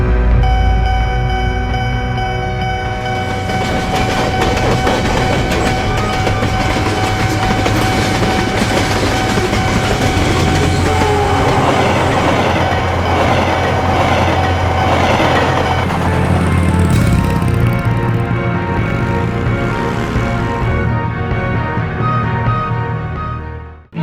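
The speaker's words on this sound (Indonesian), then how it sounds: "lalu KRL pun berangkat" An Indonesian KRL commuter electric train pulls away and runs on, producing a loud, steady rolling roar with humming motors and a dense rattle of wheels on track, heard up close for the whole stretch.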